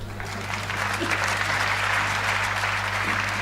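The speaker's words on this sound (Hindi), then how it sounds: "और ताली तो अब अगली पंक्ति पे बजाना आप" Steady, dense applause from an audience at a Hindi comic poetry recital, clapping continuously and loudly throughout with a low mains hum underneath.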